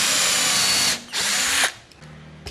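Power drill boring a pilot hole for a DIY floating shelf of Dutch teak (jati Belanda), in two close, loud whirring bursts with a short pause between them, then a faint low hum.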